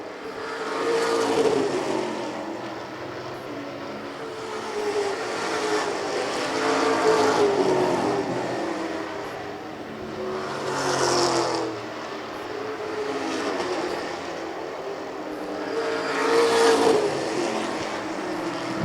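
Pro stock race cars roar around a 3/8 mile oval track, engine noise rising and falling in repeated surges as cars pass, loud and continuous with no talk.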